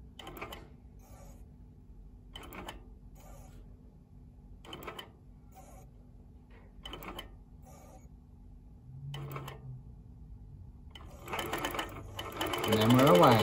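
A Handi Quilter Moxie quilting machine with Pro-Stitcher Lite makes a few quiet, spaced mechanical clicks while tying off stitches, then whirs up louder into continuous stitching at the end.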